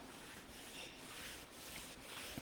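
Dry cloth rubbing glaze off a stenciled sign, a soft continuous scuffing swish in repeated strokes, close and quiet with no talk.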